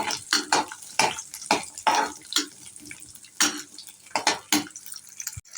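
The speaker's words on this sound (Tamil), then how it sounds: "ஒரு துண்டு இஞ்சி, 2 பல்லு பூண்டு, வெங்காயம், சேர்த்து நல்லா வதக்குங்க." Ginger, garlic and onion sauté in a pan for mint chutney, heard as a run of short clattering stirs and scrapes against the pan, irregular and fairly close, with no steady sizzle underneath.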